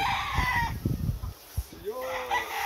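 Fighting roosters crow close by in a short sequence, with strained, drawn-out calls and a few clucks in between.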